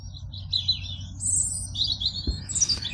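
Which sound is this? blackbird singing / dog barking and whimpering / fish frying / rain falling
blackbird singing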